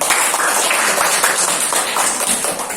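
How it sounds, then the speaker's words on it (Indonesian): A classroom of students claps together in a short, busy burst of applause, close and fairly loud, the claps blending into a continuous patter. "kasih tepuk tangan"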